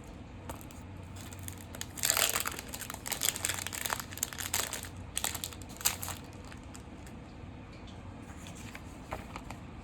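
Aluminium foil is crumpled in bursts of crinkling and crunching, loudest in the middle of the stretch and then tapering to small rustles, close and with no talk.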